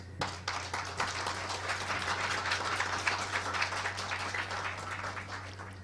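An audience at a forum on revitalising urban manufacturing applauds introduced guests, a steady dense wash of hand clapping lasting several seconds over a faint electrical hum.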